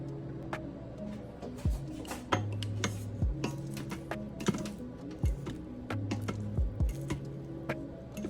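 Cooked white long-grain rice is fluffed in a pressure cooker pot, with soft squishing and repeated metal scrapes and clinks of a utensil against the pot, close and quiet.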